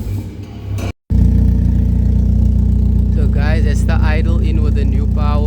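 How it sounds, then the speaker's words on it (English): A VW Golf 1 idles with a new Powerflow exhaust fitted, a steady low rumble that cuts out for a moment and then returns, with someone talking over it. "that's the idle in with the new Powerflow."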